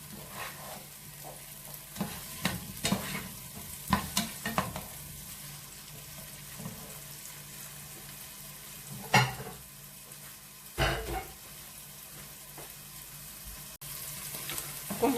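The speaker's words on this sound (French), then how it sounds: "On va laisser les oignons, l'ail, le poivron rouge, vert, se mijoter un peu." Onions, garlic and red and green peppers simmer in a paella pan, a soft continuous sizzle punctuated by scattered scraping and stirring knocks, close and moderately quiet.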